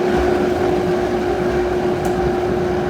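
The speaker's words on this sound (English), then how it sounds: "I have a powerful blender, so you might need to blend yours a little longer." A powerful blender runs steadily, blending fruit for agua fresca, with a constant loud motor whine that holds an even pitch throughout, close up and alone.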